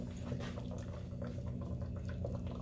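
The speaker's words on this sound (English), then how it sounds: "Gets nice bubbling going on there." Electrocleaning bath at about 7 volts with a freshly scoured copper piece gives a soft continuous fizzing and bubbling over a steady low electrical hum, close up.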